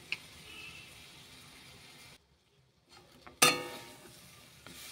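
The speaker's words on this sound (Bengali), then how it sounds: "গুড়টা গলতে শুরু করেছে কড়াইতে দিয়ে" Jaggery and amla heating in a hot kadai while being stirred, giving soft sizzling and scraping with a brief quiet gap and a sharper burst of sizzle near the end.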